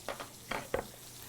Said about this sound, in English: I'm going to go ahead and take my potatoes